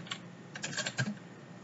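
Keys being tapped on a computer keyboard while a Linux crontab command is entered; a few soft, scattered clicks, close and quiet, with no voice.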